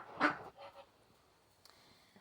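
A pet duck, a hen, gives a single nasal call up close, followed by a couple of softer fainter calls and quiet background rustling.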